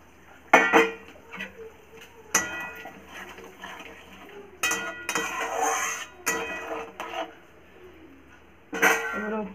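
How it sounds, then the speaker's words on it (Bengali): Shrimp go into a cooking pan in a home kitchen, with scattered clinks and knocks of utensils against the pan in sparse bursts, fairly close, over a quiet background with someone speaking Bengali. "এবারে আমি সব চিংড়ি মাছগুলোকে দিয়ে দেব।"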